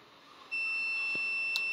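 Cab alarm in a Moscow metro train on the Zamoskvoretskaya line, a high electronic beep that starts abruptly and holds steady over faint rumbling, with a brief click near the end.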